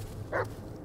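A dog in the horror video game Blair Witch gives a single short bark, brief and moderately faint over a low ambient game drone.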